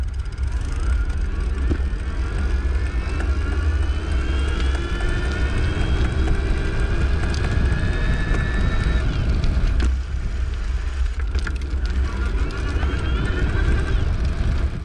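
The motor of an EVELO Dash folding e-bike runs at full throttle in gear two, a rising electric whine over steady wind and road rumble.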